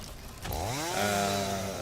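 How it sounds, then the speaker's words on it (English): Chainsaw in the video game Satisfactory revving up with a rising, whining engine tone that swells and holds steady for under two seconds, heard close and alone. "I didn't want my chainsaw."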